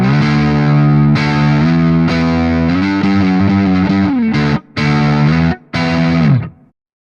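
An electric guitar played through an amp modeler's Millennial Lead distortion preset with chorus plays a sustained, heavily driven lead line with bends, loud and alone, ending in brief stops and a fading final note.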